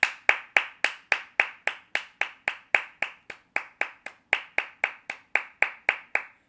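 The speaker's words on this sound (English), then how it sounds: "Can we get a round of applause for this guy, right?" A single person clapping for a round of applause, about two dozen crisp, evenly spaced claps close by, with no voices.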